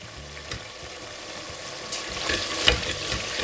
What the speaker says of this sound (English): I'm going to go ahead now to stir them all together